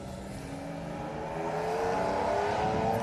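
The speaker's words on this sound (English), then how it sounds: "Fuel-injected quad-cam V12 Ferrari engine." A Ferrari P4 replica race car with a fuel-injected quad-cam 4.8-litre V12 accelerates at a historic motorsport sprint meeting, its fairly distant engine note swelling and rising in pitch over a few seconds.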